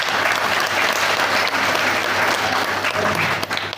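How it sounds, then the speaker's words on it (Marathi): A room full of people claps for a student, sustained dense applause from the audience that holds steady and close before thinning out at the end. "टाळ्या वाजवा तिच्यासाठी"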